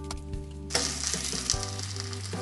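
Kimchi pancake batter frying in a pan, a loud sizzle that jumps up as the pancake is flipped with a spatula, with a brief scrape and a steady low hum beneath.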